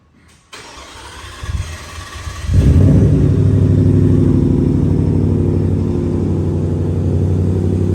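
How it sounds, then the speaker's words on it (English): A Ford Raptor R engine cranks for an extended stretch, a rapid churning for about two seconds, before it catches and settles into a loud, steady idle close by. "It's cranking a lot, and it's just an extended cranking sound."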